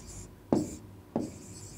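In a fourth-grade science lesson, someone writes in a notebook, making two short, scratchy strokes about half a second apart that are close and fairly quiet, with no other sound.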